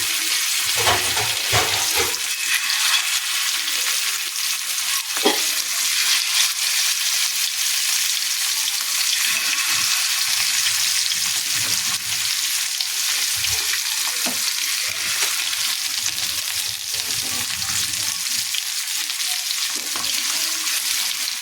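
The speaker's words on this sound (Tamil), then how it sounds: "இப்போ பாருங்கள் எண்ணெய் சூடாயிடுச்சு மீன் பசங்களாம் எண்ணெயில் போட்டு குளிக்க போகிறேன்" Fish pieces dropped into hot oil fry with a loud, steady, hissing sizzle that fills the whole stretch, with occasional soft knocks and spatters.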